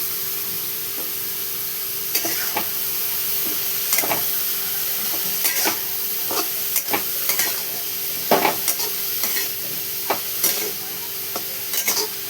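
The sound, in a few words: vegetable curry being mixed in a pan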